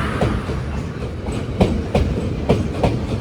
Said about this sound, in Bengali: ট্রেন চলে এসছে বন্ধুরা।